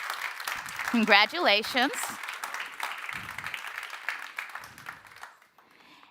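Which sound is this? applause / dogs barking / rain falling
applause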